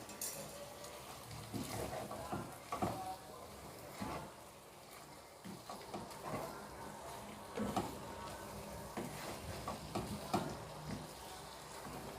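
Chicken korma masala with cumin powder and dried coriander being stirred in a pan, giving a continuous faint sizzle with repeated soft scrapes and knocks of a spoon over about twelve seconds, with no talking.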